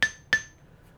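Two sharp metallic hammer blows on a steel anvil at a blacksmithing setup, each ringing clearly and decaying, spaced about a third of a second apart, close and alone.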